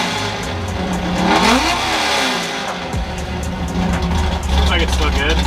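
A NASCAR engine in a Ford F100 idles lean and lumpy nearby, with blips of revving rising and falling over its steady rumble and some background noise.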